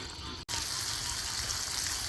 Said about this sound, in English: I'm gonna go ahead and put my mushrooms in because those take forever to cook